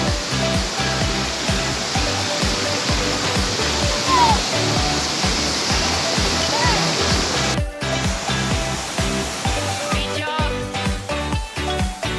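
River water at Villa Elena Mountainview Resort rushes in a loud, steady roar from start to finish, with splashy texture and occasional voices faintly underneath.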